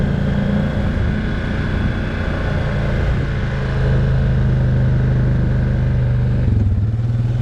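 A Can-Am Outlander 500 DPS ATV engine idles steadily, then pulls away in low gear with an immediate clutch engagement, a loud close rumble rising slightly in pitch toward the end.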